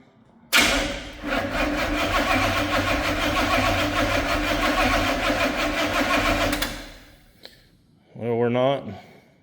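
A C50 build's engine with a newly installed Kill Shot EFI cranks and catches abruptly, then runs loud and steady at a rough idle for about six seconds before shutting off, followed by a brief click and someone speaking.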